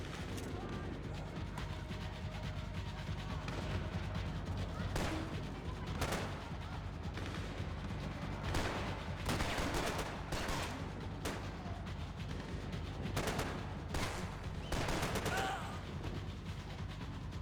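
Rapid bursts of gunfire crackle repeatedly over a constant noisy bed, game audio from Max Payne 3 at moderate volume.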